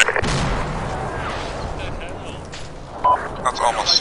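Heavy howitzer artillery fire in an Arma 2 battle, with a loud sustained rumbling blast and booms early on, then a few sharper distant impacts toward the end.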